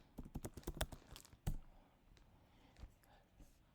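Quiet clicking on a computer keyboard, a quick burst of keystrokes followed by a few scattered taps, close and soft.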